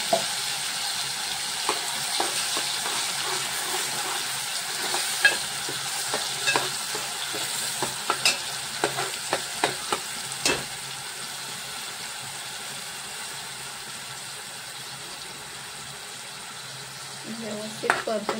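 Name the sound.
spice paste sautéing in oil with mustard seeds and curry leaves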